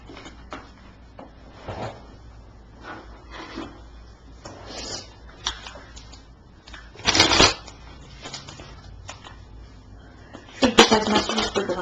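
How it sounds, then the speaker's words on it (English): Tarot cards riffled and shuffled close by, a string of papery flutters and taps that swells into two louder bursts, with no talking over it. "There's no way to shuffle quietly, so hopefully the mic's farther away."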